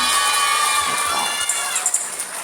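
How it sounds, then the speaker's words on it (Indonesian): An audience of children at a religious gathering cheering and shouting, a bright crowd roar that is loud at first and thins out into scattered voices. "Tepuk tangan dulu dong buat kita semua."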